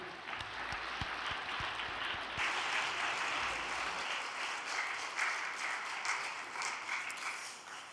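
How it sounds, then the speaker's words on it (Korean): Large audience applauding in a church's main sanctuary during a Korean prayer service, steady dense clapping for the full stretch with a few sharper single claps near the start, loud and continuous. "단상에 모실 때 큰 박수 부탁드리겠습니다."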